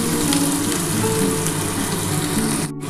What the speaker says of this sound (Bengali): পেঁয়াজের সাথে কিন্তু কাঁকরোলটা মোটামুটি ভাজা হয়ে গেছে